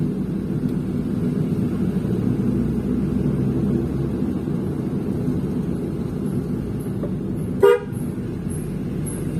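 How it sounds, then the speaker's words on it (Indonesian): Steady road noise of a moving vehicle on a hot-mix road in North Sumedang, then one short, sharp honk of a car horn at a bend near the end. "Diwajibkan harus selalu menyalakan atau membunyikan klakson di setiap kita memasuki tikungan"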